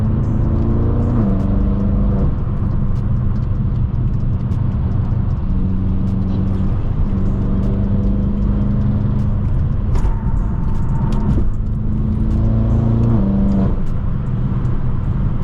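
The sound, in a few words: tuned BMW M6 engine revving in traffic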